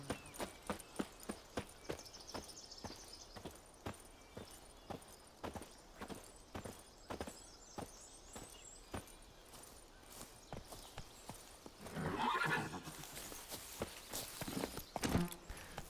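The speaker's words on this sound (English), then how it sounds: "Let me get my horse." A horse in The Witcher 3 video game walks with steady, regular clip-clop hoofbeats, fairly quiet, followed by a brief louder neigh or snort and a few final heavier steps.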